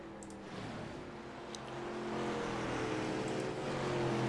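Short Track Superleague race trucks run laps at Richmond Raceway, their engine drone swelling from moderate to a louder, sustained roar as the pack draws nearer.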